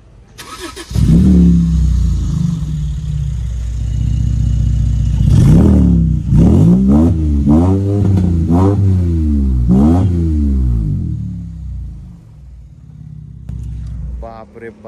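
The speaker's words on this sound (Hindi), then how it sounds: "ये कार के अंदर आफ्टर मार्केट एग्जॉस्ट लगा है, तो वो एग्जॉस्ट का साउंड इतना ब्रूटल है कि भाई आपको हिला देगा" A Mercedes-Benz SLK 350 engine fitted with an aftermarket exhaust starts, then revs hard in a series of loud, rising blips before settling to a rumbling idle, with someone speaking near the end.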